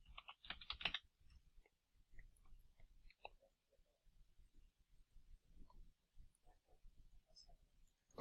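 Someone types a password on a computer keyboard, faint scattered key clicks at an irregular pace with a brief louder burst at the start, in a quiet room.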